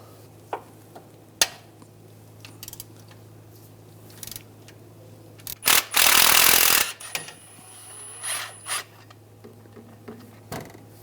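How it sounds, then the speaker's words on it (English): Socket wrench removing a tensioner bolt on a 2011-2018 RAM 1500 3.6L V6 using a 16mm socket: a sustained ratcheting rasp of about a second comes up close, with scattered clicks and clanks of metal around it. "We're going to take this bolt out, use a 16mm socket."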